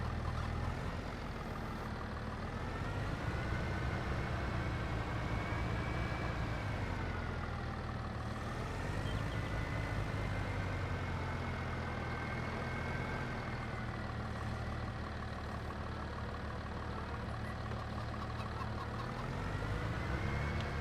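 A tractor engine in Farming Simulator 22 runs at a steady, close drone throughout, its pitch rising and falling gently as the machine is driven, with no talking.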